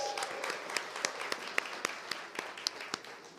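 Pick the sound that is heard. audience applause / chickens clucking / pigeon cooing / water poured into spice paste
audience applause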